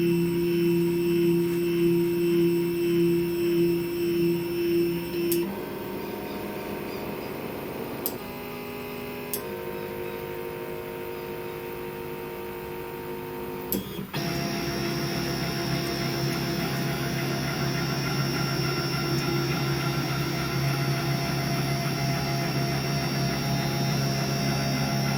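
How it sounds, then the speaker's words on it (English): A CNC machine homes all of its axes. A steady electric motor whine and hum shifts pitch through several stages, with a few sharp clicks between them, and stays fairly loud throughout with no talking. "So we're going to rehome all the axes"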